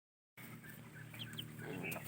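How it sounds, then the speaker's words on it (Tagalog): Backyard chickens and young chicks give soft, close clucks and faint peeps over a low steady background after a brief silent start. "Mataas ang mga sisiw."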